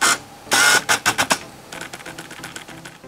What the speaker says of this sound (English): You might also find that the autofocus motor is quite loud inside your camera.